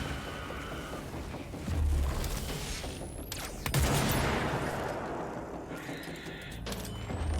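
Chain reaction of explosions in the video game Control, several deep booms and bursts of crackling debris spread across the clip, with a dull rumble between them.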